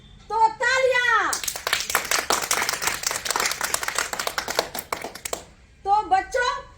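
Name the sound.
children clapping hands, applause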